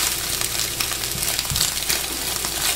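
Scrambled eggs crackle and sizzle in a hot pan for fried rice, a dense, even frying hiss with faint stirring scrapes underneath.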